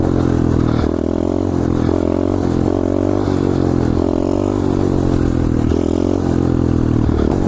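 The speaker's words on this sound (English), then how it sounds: "this looks like a nice road to hit a third gear wheelie on" Pit bike engine droning steadily at high revs during a third gear wheelie on a road, with rhythmic pulsing and rattling clatter throughout, loud and close.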